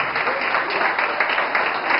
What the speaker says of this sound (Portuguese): vamos aplaudir Jesus, irmão